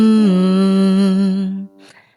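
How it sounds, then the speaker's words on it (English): Solo humming on a five-note scale as a vocal exercise, a single sustained voice gliding through the pitches for about a second and a half before fading into a soft breath. "Now we are going to start humming."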